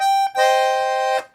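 A Weltmeister Rubin piano accordion, green and red, sounds a sustained chord on its clarinet treble register, broken by a brief gap after a short opening tone, then held steadily and loud before cutting off; no talking.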